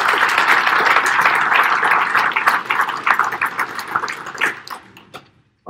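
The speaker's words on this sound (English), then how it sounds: "let's give a round of applause for Don and Susie that organized this" Audience applause at a land values presentation, a dense sustained wash of clapping that thins and tapers off toward the end before a brief cutoff.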